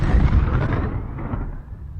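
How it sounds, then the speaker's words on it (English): A cartoon house explodes violently in a loud, sustained rumbling boom that rolls on for about two seconds and slowly fades, with dense low-end roar and no speech. "The house explodes violently, sending Shatner, Nimoy, and Serling flying."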